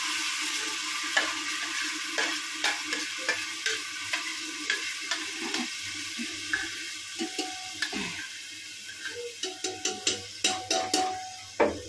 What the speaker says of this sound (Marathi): आता बघा मसाला टाकलाय, आवाज येईल आपल्याला.